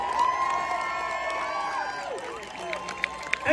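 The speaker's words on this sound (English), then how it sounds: "Come on, give these men and women here a big round of applause" At a Celtic festival, a distant outdoor crowd cheers and applauds with whoops and shouts, the clapping growing sharper toward the end amid the lively noise.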